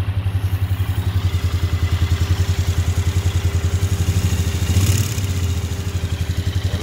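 Polaris Sportsman ATV with a four-wheel-drive electrical fault, its engine thumping steadily nearby as it is put in gear and the tires spin, a rhythmic mechanical chug with clatter and no voices.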